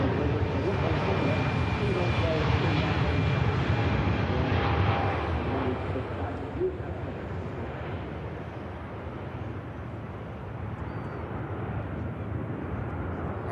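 Airbus A350 airliner at Manchester Airport, a broad steady jet roar that slowly fades as the aircraft moves off, with someone talking over it throughout.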